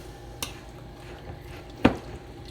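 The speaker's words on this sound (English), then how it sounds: "So I'm going to give this a stir." A spoon stirs egg salad mixed with mustard in a bowl, giving two distinct clinks against quiet background scraping.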